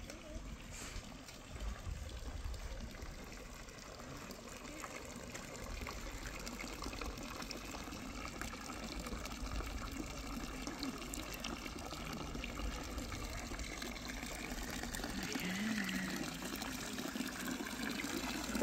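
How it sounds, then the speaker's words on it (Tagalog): Water gushes and splashes steadily as it fills a container, a continuous rushing wash that swells slightly toward the end. "Kuha ko ng tubig."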